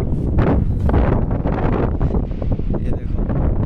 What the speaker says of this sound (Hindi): मज़ेदार वाली हवा चल रही है, बिल्कुल